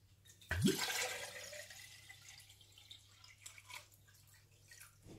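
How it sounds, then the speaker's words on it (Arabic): Water poured into a container for a large batch of orange juice with sugar, a sudden splashing gush that quickly fades into a thin, quiet trickle and dribble. "وغادي نضيف الماء كما قلت لكم لتر ونصف"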